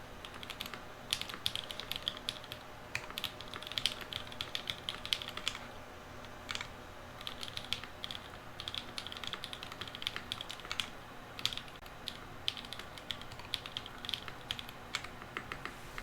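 Steady close typing on a Keycult 1/65 mechanical keyboard with a PLA plate, rapid clacky keystrokes in an uneven rhythm with occasional heavier spacebar thumps, no talking.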